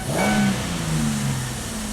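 A GM Equinox engine idles with a rough, uneven rumble and a brief rev that rises and settles, close by.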